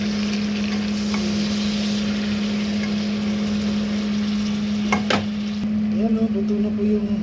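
Small ipon shrimp frying in a pan, a steady loud sizzle with a constant hum underneath and a few clinks near the end.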